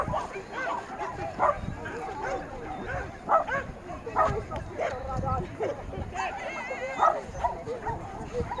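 Dogs at an agility competition bark, yip and whimper repeatedly in irregular bursts, with voices and crowd noise running beneath throughout.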